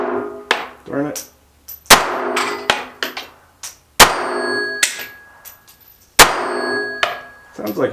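Shots from a Smith and Wesson Bodyguard 2.0 pistol crack sharply at an outdoor range, several followed by bright metallic rings of rounds striking a steel target, spaced irregularly with ringing tails.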